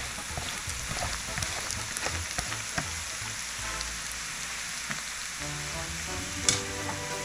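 Soft onions frying in a pan as basil and garlic are tossed in for an Italian dinner, a steady close sizzle with scattered clicks of stirring and a sharper crackle near the end, no voices.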